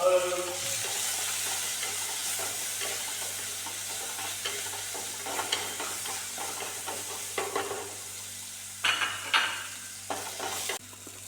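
Crushed shallots and green chillies frying in a pan for an eggplant curry, a steady close sizzle with soft stirring scrapes and a few brief clinks toward the end, no voices.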